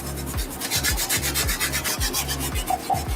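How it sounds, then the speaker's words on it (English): A wire bristle brush scrubs the soles of Air Jordan 13 sneakers in rapid back-and-forth rasping strokes, loud and close, with a steady rhythmic pulse and no talking. "going back in with our wire tip bristle brush."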